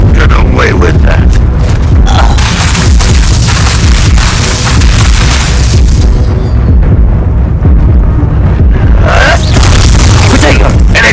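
Incendio fire spell cast in Hogwarts Legacy combat: loud, continuous fiery roaring and booming bursts fill the whole stretch, with crackling flares and whooshes and brief voice sounds woven through the dense battle noise.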